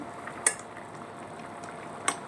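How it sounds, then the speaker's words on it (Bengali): Potatoes simmer in a covered pot with a soft, steady bubbling hiss, and two brief lid rattles or clinks stand out faintly above it. "তো চলো, আলুটা একটু সেদ্ধ হোক।"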